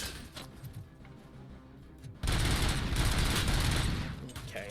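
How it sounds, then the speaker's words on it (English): Dual-wielded submachine guns firing in the video game RoboCop: Rogue City: a long, loud burst of rapid gunfire bursts in after a quieter stretch and keeps rattling close at hand before easing off slightly at the end. "Oh, dual-wielding submachine guns."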